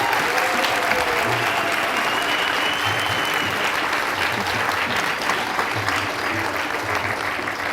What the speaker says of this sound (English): And a roaring round of applause for Eddie and Sonia.